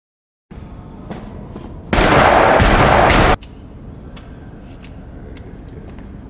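Gunfire at shooting practice, a loud burst of rapid shots lasting about a second and a half over a low steady background, with faint ticks before and after.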